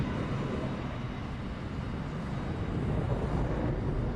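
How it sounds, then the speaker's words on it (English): An airliner comes up from behind in Microsoft Flight Simulator. Its jet engines give a continuous, dense rumbling roar that swells slightly toward the end, with no voices. "Oh, we've got an airliner coming behind us,"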